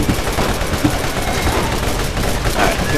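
Assault rifle fire in the Borderlands video game crackles on without pause, loud and close, with shots blending into a thick, steady barrage.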